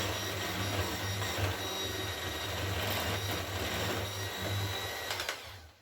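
An electric mixer whirs steadily while beating apple and chocolate chip cake batter at low speed, a continuous close motor hum with faint scraping, cutting off near the end.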